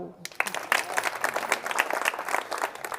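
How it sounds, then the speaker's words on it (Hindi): An audience bursts into clapping after a brief silent start, a lively, uneven spatter of hands that holds at a fairly loud level for the rest of the moment, with a few voices faintly underneath. "ताली बजाओ"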